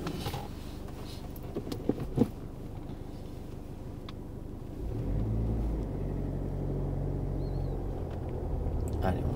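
Car accelerating during a driving lesson, heard from inside the cabin as a low engine rumble that swells and holds steady in the second half, with faint background noise before it.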